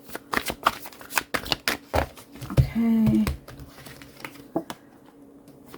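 A deck of cards riffled and shuffled up close, rapid papery flicks with a short whirring bridge in the middle; a voice speaks briefly.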